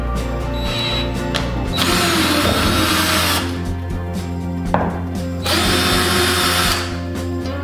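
Power screwdriver backing out screws from an old thermostat unit being replaced with a Nest, a steady close whirring motor that runs in long bursts with brief pauses between.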